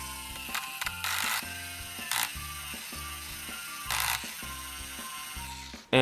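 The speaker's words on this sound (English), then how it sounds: "let's do some drilling." Toy dentist drill from a pretend toy hospital play set, whirring in repeated short buzzing bursts with brief pauses between them, close and clear, ending with a sharp click.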